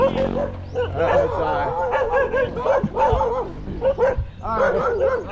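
An aggressive dog on a hillside road near Simala, Cebu barks and yips repeatedly at close range, loud and insistent, with whimpering notes between bursts over a low engine hum.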